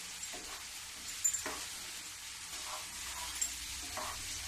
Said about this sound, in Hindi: धीमी गैस में ही मसाला भूंजूंगी